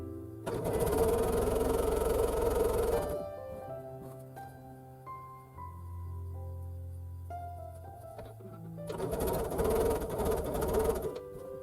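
Sewing machine chain piecing four small quilt block units for an airplane block, with loud bursts of rapid stitching at the start and end and a quieter lull between them.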